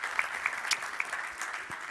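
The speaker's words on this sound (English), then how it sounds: "I think that's worth another round of applause for the UNFCCC." Audience applause at a special theme session of a sports organisations' general assembly in Seoul, a steady patter of clapping from a crowd, moderately distant, with no talk over it.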